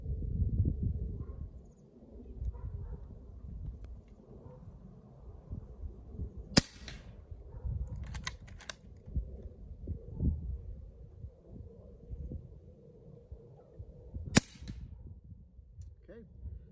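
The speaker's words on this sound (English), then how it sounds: "So let me see if I can put two into the gel." .22 caliber air rifle shots fired into ballistic gel during a slug versus pellet test: two sharp, loud cracks about eight seconds apart, with a few fainter clicks and low handling noise between them.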